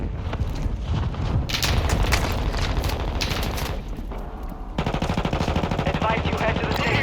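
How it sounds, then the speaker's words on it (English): Rapid automatic gunfire rattles in dense bursts during a Warzone 2.0 match, loud and close, with a short lull before the firing resumes. "I'm taking fire!"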